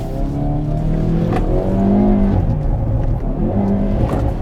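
Hyundai Veloster N with an 8-speed DCT on a track, its engine revving hard and bouncing off the rev limiter in a loud, steady drone with wavering pitch, heard from inside the car with no talk.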